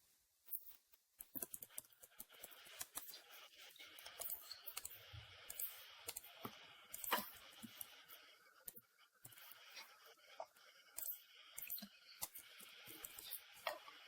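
Faint computer mouse and keyboard clicks tap out irregularly in a quiet room, with short scattered bursts of clicking and no talking.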